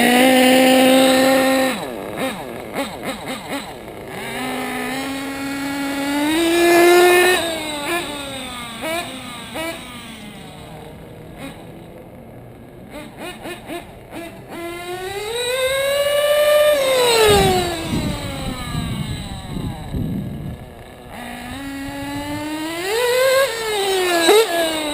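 Modded RCR Triton L3 RC car with a small nitro engine runs and revs loudly, its pitch climbing and falling through repeated throttle bursts over about 25 seconds, a whining two-stroke buzz with no talk.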